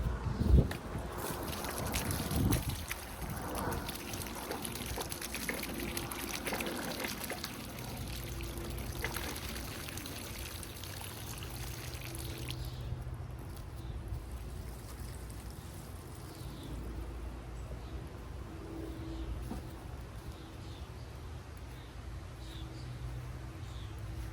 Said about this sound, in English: Let's water them in.